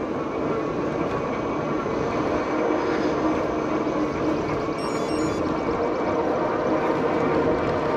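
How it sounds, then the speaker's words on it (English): A loud train rumbles past nearby, a steady roaring wash of noise that holds at full strength throughout, with no voices. "I guess you can hear that train."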